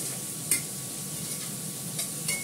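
Fish curry with potato and onion cooking down in an iron wok, a low steady sizzle with a few sharp scraping stirs of a utensil against the metal, close and moderately quiet.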